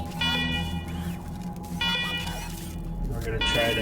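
Alarm in the video game Wasteland 3 sounds as repeated electronic tones in separate bursts, under someone talking over the game audio.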